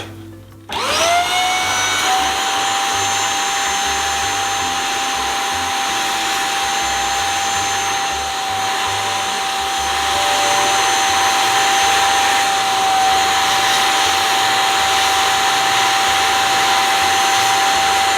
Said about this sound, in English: Now we're going to push down hard on the front of the machine to start sucking that up.